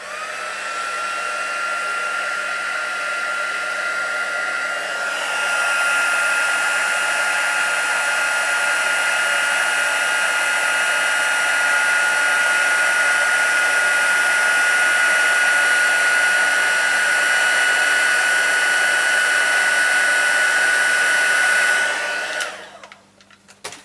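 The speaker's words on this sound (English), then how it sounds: "So first of all I'm going to heat emboss this." A heat gun embosses a stamped greeting card, a steady loud blowing whine held for about twenty seconds before cutting off.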